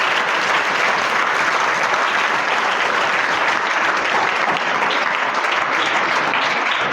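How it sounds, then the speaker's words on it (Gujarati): Loud, dense applause from a school audience of students clapping for the management, a sustained even roar of many hands lasting the whole stretch with no talking. "એમના માટે તાળી બજાવો"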